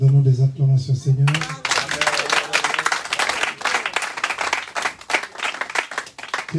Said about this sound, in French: Donnons des acclamations au Seigneur